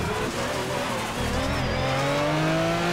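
A race car losing grip through the Zolder chicane in the Project Cars video game: a loud, close engine note with tire squeal and skidding as the revs climb.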